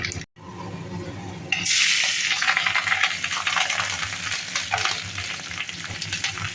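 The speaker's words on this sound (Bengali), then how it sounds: "সরষের তেলও গরম হয়ে গেছে, দিয়ে দেব কালো জিরে ফোড়নে আর কাঁচা লঙ্কা" Nigella seeds and green chillies hit hot mustard oil in a kadai with a sudden loud burst of sizzling, which settles into a steady, close crackling fry that continues to the end.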